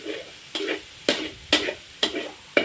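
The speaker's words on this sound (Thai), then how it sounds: "กระเทียม เหลืองแล้วนะครับ เอาหมูสับ หมู สับลง ตัวหมูให้ให้สุกนะครับ" Minced pork and garlic are stir-fried in a pan, with six sharp scraping strokes of the spatula at a steady beat over a soft sizzle, close and loud.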